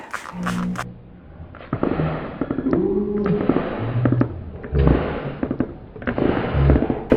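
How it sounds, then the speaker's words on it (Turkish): A handheld spray bottle mists water onto dieffenbachia leaves in a series of short, sharp hissing bursts spread across the clip, close and fairly loud. "bir sprey yardımı ile fıs fıs yardımı ile şöyle yapraklarına su püskürtebilirsiniz"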